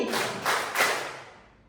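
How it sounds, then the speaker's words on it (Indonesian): A class of students claps their hands together three times in quick unison in a reverberant classroom, each clap a short sharp burst with the room's echo fading after the last one. "Tepuk tangan 3 kali."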